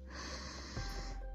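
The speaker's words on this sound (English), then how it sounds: "you guys can hear me like heavy breathing" Heavy, quiet breathing of a pregnant woman at 37 weeks, one or two close snorting breaths through the nose, brief and faint.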